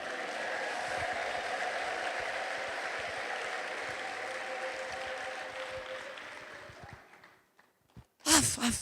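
A church congregation applauding, a dense sustained burst of clapping that carries for several seconds and then fades out, followed by a brief loud voice.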